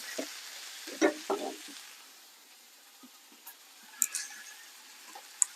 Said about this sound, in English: I'm going to add the more butter and the leeks to the pan so they all cook in together